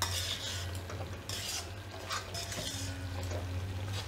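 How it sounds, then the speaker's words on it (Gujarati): Spoon stirring dry fruit laddu mixture with sugar syrup in a pan, a close scraping and clinking rhythm with a low steady hum beneath, no voices. "એટલે થોડી વાર આ રીતે હલાવવાનું."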